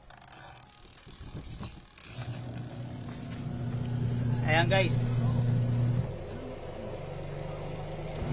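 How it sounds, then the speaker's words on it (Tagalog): A secondhand washer-dryer's motor whirs up to a fast, steady spin with a humming drone and some clicking, while someone talks briefly at the start. "mabilis na ikot yung motor ng washing tsaka ng dryer nya."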